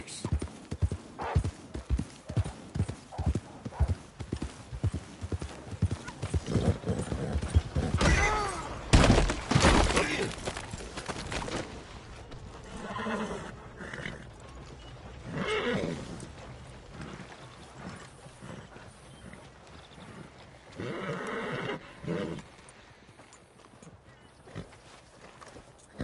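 Horse hooves clop in a steady galloping rhythm in Red Dead Redemption 2, then a loud whinny bursts out before the hoofbeats fade to quieter, scattered steps.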